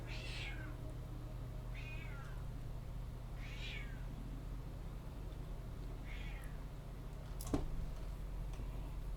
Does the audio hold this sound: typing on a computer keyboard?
no